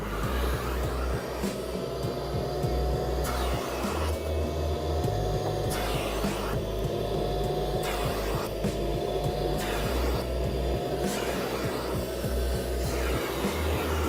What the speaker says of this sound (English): Then I'm going to turn my vacuum on.